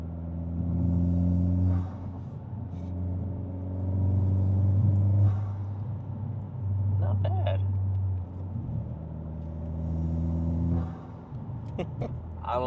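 A 2023 Honda Civic Si with PRL Motorsports upgrades cruises at about 52 mph, its steady engine drone and road rumble heard from inside the cabin, swelling and easing slightly, with a voice speaking over it.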